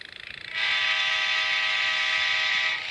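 A train horn blares in a mobile video game, cutting in after a brief rumble and holding loud and steady for over two seconds before easing off, with no talking over it.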